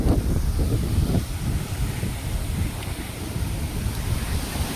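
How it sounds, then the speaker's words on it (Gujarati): Strong wind gusts roar past after a cyclone that uprooted trees in a Gujarat village, a continuous loud rushing buffet that batters the microphone with low rumbling, alone and without talk. "જોરદાર પવન ફૂંકાય છે હજી તો"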